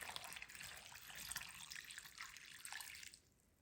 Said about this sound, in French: ici je viens couvrir d'eau froide.